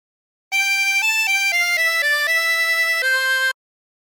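A phrase of La Cucaracha on harmonica: one sustained, reedy melodic line of about nine connected notes shifting pitch step by step for three seconds, steady in loudness, then stopping cleanly, with no voice.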